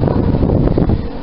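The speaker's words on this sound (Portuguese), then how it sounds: "Tem um vento. Tem um vento chato." Wind gusting outdoors in front of a house, buffeting the microphone with a loud, rough whoosh across the whole brief moment.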